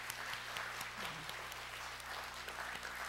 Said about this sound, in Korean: 환영의 박수 해주시기 바랍니다.